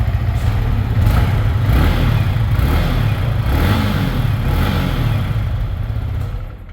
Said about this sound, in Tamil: வண்டியோட எக்ஸாஸ்ட் எப்படி இருக்குன்னு பார்க்கலாம்